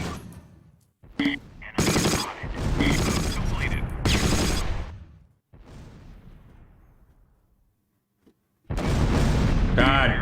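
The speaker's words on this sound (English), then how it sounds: "they just dropped a massive artillery barrage there" Artillery barrage in the Close Combat video game, set during the 1944 liberation of Mortain: loud rapid bursts of gunfire and heavy explosions in dense clusters, separated by quiet gaps and a fading rumble, with speech mixed in.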